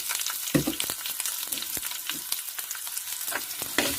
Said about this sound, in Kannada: ಸಾಸಿವೆ ಮೆಂತ್ಯ ಎರಡು ಸಿಡಿತಾ ಇದೆ